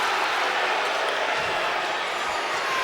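A hockey crowd roars steadily in the arena during a fight at a 2008-09 WHL game between the Lethbridge Hurricanes and the Saskatoon Blades, forming a loud, continuous wash of noise from many voices.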